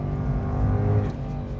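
A sports car engine revs hard and close, a deep, rumbling roar holding steady over a moment.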